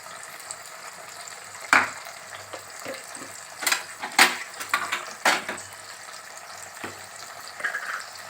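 Chopped tomatoes frying with chicken mince in a pan give a steady sizzle, broken by sharp scraping and stirring clatters of a utensil against the pan, with no talking.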